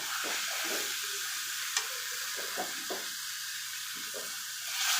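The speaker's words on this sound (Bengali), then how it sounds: "গরম পানিটা দিয়ে দিই আর চুলার জালটা একবারে হাই হিট করে দিই" Hot water poured into biryani paste frying in a pan on high heat, giving a steady hiss and sizzle with scattered stirring scrapes and clinks, close by and without talk.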